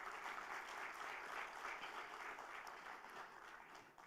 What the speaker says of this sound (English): I would like everyone with a big hand clap to welcome our Prime